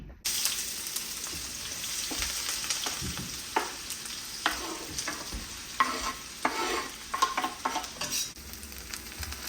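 Ginger-garlic paste hits hot oil in a pan for fish chops, giving a steady loud sizzle and frying hiss with occasional stirring scrapes and spatters throughout, no talking.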